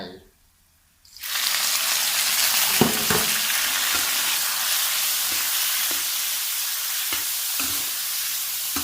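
Garlic, shrimp and squid being stir-fried for dry instant noodle suki, a loud, steady sizzle bursting in after a brief quiet, with occasional scrape and clatter of the spatula in the pan, close up and without talking.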